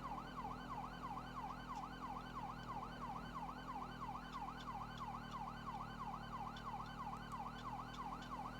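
Police siren in GTA 5, a rapid wailing yelp cycling up and down continuously over a low engine drone, steady and fairly loud, with no talking.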